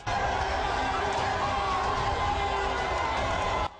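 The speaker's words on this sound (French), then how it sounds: "une foule compacte, l'atmosphère est alors électrique" A packed, excited crowd at a political rally in Kalemi, Tanganyika province, cheering and shouting in a steady, loud roar that holds throughout and cuts off abruptly at the end.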